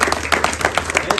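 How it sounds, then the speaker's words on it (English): Audience applause at a business gathering of an Oromo community, a dense run of hand clapping across a crowd, steady and fairly loud throughout. "Let's give him a round of applause."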